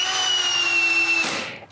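Power drill boring a small hole in wood for a center screw during a table leg repair, a loud steady whine for about a second before the motor stops and spins down.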